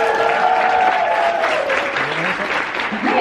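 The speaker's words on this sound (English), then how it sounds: "Big round of applause." A large crowd at a VidCon Europe 2018 keynote bursts into loud, continuous applause, with whoops and cheering voices rising over the dense clapping throughout.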